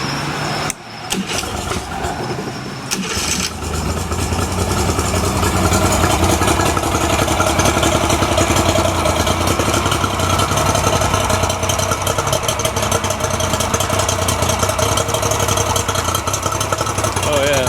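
Outboard motor on an inexpensive bass boat under repair, starting with a brief sputter then settling into a loud, steady, rumbling idle that runs smoothly to the end, with someone talking over it.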